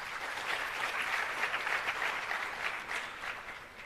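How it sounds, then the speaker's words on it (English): An audience at a launch ceremony for 4IR centres of excellence gives itself a round of applause: a full, even roar of many hands clapping, sustained and moderately distant, without speech. "May you give yourselves another big round of applause"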